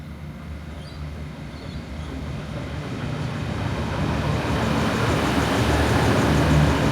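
A low, steady rumble of an approaching passenger train at Garfield station that grows gradually louder, a broad rolling roar with no voices.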